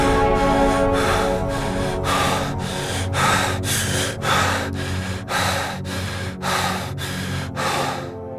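Laboured breathing from someone ill with COVID-19: about a dozen heavy, gasping breaths in a steady rhythm, each a loud, rough burst of air, close to the microphone, with no speech.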